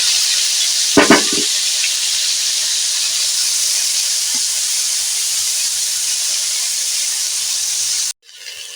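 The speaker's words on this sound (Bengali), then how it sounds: "এবারে দিয়ে দেব এতে কফি এই তেলেতে কফিগুলো দিয়ে ভেজে নেব" Cauliflower pieces fry in hot oil in a pan, giving a steady, loud, even sizzle with a brief clatter near the start, cutting off abruptly near the end.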